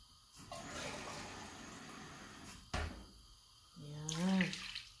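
Water is poured into a cooking pot of fish curry with coconut milk, a soft rushing splash lasting a couple of seconds, followed by a sharp knock and a brief, louder burst of noise near the end.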